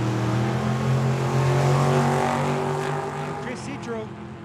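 An '87 Mustang and a '67 Camaro drag racing at Tucson Dragway give a loud engine roar with steady tonal drone that fades toward the end, under a commentator's voice.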